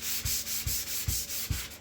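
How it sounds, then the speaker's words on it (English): Wooden edges of scrap-wood bench tops being sanded by hand with a sanding block, four even rasping strokes in a steady rhythm, close and fairly quiet with no talk. "I call them sanding blocks."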